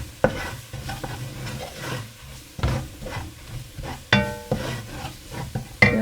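Whole spices toasting in hot oil for a Thai massaman chicken curry, a pan scraped and stirred in uneven strokes with sharp utensil knocks over a low sizzle, close up and without speech.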